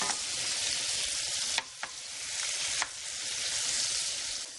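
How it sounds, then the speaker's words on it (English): Shrimp sizzle briskly in two tablespoons of melted butter in a pan, a loud, continuous frying hiss up close, broken twice by brief stirring or turning sounds. "melt 2 tablespoons of butter and cook the shrimp just for a couple of minutes"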